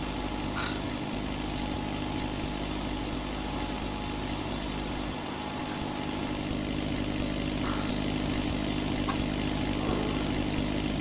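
A Ford 5610 tractor engine runs steadily during hay tedding, a continuous mid-pitched drone at constant loudness with faint intermittent clicks and knocks over it, no speech.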